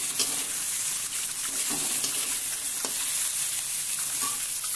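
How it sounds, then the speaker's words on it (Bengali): Eggs sizzle steadily in a hot pan while a dal with tomato and egg is being made. The loud, close frying hiss runs throughout, with occasional soft stirring scrapes and no talking. "আমার ডিমগুলো ভাজা হয়ে গেছে"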